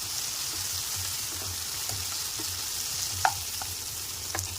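Ginger fries in a pan of oil for a potato curry, a continuous soft sizzle with occasional light stirring scrapes and small pops, close and even throughout.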